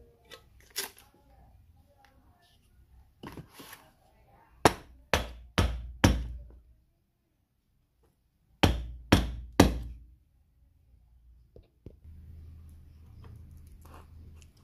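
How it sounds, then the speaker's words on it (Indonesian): A hammer tapping slowly and gently to seat parts evenly before bolting, with clear, spaced knocks that come singly and then in two runs of three or four regular blows, separated by quiet pauses. "Kita ketok perlahan-lahan."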